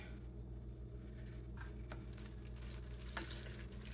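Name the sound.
lamb for tacos sizzling in a pan, being stirred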